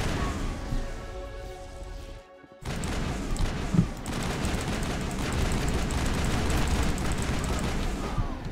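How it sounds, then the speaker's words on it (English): Gunfire rattles against a Brachnite bug in Mass Effect, a dense burst of game shooting and impacts that cuts out briefly and resumes as a loud continuous crackle and rumble, with a voice briefly heard early. "Shooting at the Brachnite thing that's in there."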